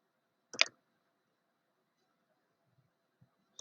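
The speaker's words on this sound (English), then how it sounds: "click on Windows button" A single sharp mouse click on the Windows Start button, close and crisp, followed by near silence with a couple of faint soft taps.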